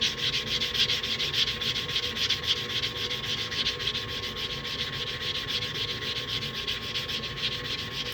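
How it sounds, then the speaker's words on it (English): A filing block rubs steadily along the edge of a state quarter coin ring, a close, continuous rasping scrape with an even back-and-forth texture and no talking. "hit this edge right here with a filing block. Just kind of smooth it out a little bit."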